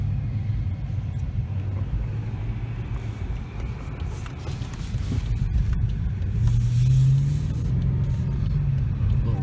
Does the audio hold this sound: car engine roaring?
yes